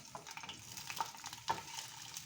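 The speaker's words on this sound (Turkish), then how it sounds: "Sevgili takipçilerim, bugün sahura biber kavuracağım." Village peppers fry in a pan, giving a faint, close crackling sizzle with small pops and spits scattered throughout.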